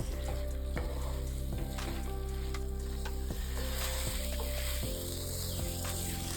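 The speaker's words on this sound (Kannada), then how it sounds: "ಈ ಟೈಮಲ್ಲಿ ಹೈ ಫ್ಲೇಮ್ ಮಾಡಿಕೊಂಡು ಒಂದು 4 ರಿಂದ 5 ನಿಮಿಷ ಫ್ರೈ ಮಾಡ್ಕೋಬೇಕು." Chicken frying on a high flame, a continuous loud sizzle with occasional stirring clatter and a low steady hum beneath, no talking.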